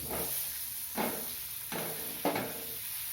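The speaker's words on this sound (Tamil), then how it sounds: "முட்டையை ஒன்று ஒன்றா போட்டு லேசாக வதக்கி எடுத்துக்கணும்" Halved boiled eggs fry gently in a pan with chili powder and turmeric over low heat. A soft, steady sizzle is broken by a few brief louder bursts as the eggs are moved or turned.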